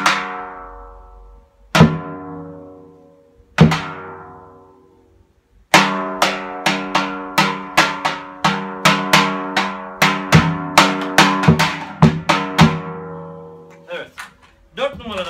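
An Eker Percussion hanging drum in a rakı colour is struck. A few slow, ringing metallic hits come first, then a quick run of resonant notes that die away, and a person talks over the drum.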